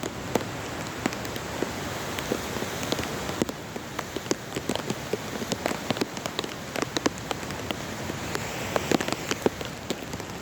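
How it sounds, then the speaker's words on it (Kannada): Heavy rain pours down steadily, with a dense wash of drops punctuated by sharp individual splats and taps on nearby surfaces throughout, and no one speaking. "ಸಿಕ್ಕಾಪಟ್ಟೆ ಮಳೆ ಇದೆ ಸ್ನೇಹಿತರೆ"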